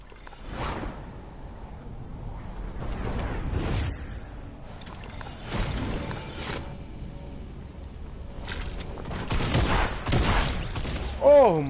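Grenades explode in a Fortnite match in several booming bursts spread across a few seconds. Gunfire and other game effects sound between them, with a player's voice now and then.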